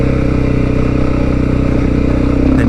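A Honda XR650L motorcycle on a trail in the Blue Mountains gives a loud, close, steady engine drone that holds a constant pitch throughout.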